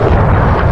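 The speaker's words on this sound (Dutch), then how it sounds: "Hij hoort een luide, dreunende knal in het noorden en kijkt op." A deep, booming roar of a tall, slender church tower collapsing in Vierlingsbeek during the Second World War battle of Overloon fills the brief moment, loud and rumbling, with no voices.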